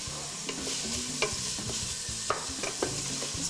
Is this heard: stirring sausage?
yes